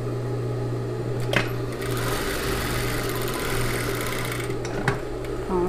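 A sewing machine stitches a knit dress with a steady mechanical hum and rapid needle rhythm running throughout, with a few brief clicks and taps of handling.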